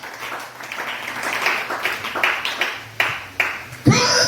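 A church congregation claps and applauds in praise of the Lord, with scattered hand claps building into sharper, louder bursts near the end, while a voice speaks in the background.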